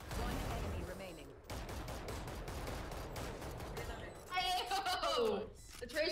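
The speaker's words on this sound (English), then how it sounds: "Oh, the tracer rounds for the win!" Gunfire from tracer rounds crackles in a video game match, with bursts of rapid shots and explosive shooting layered under steady game noise while a player talks over the action.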